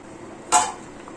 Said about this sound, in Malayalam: ഇനി നമുക്കൊന്ന് തുറന്നു നോക്കാം തുറന്നു നോക്കി നല്ലപോലെ ഇളക്കി കൊണ്ട് കൊടുക്കാം